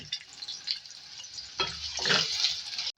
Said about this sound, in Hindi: इसमें 2 मीडियम साइज़ की प्याज डालेंगे, इसको फ्राई करेंगे।